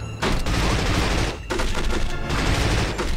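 Loud, close submachine gun fire in the video game From Russia With Love, three sustained bursts separated by brief pauses.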